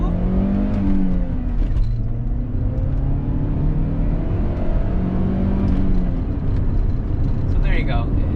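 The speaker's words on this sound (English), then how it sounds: "We can try a little 0 to 60 run here." A 2004 Saab 9-3 convertible accelerates hard from a standstill toward 60 mph, its engine droning loudly and climbing in pitch through a gear shift, heard from inside the cabin over steady road and wind rumble, with a voice speaking briefly.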